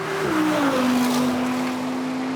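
An Audi RS6 GT launching hard in a drag race against an R8 GT, its engine note dropping as the gearbox kicks down and then holding a loud, steady, close roar of hard acceleration.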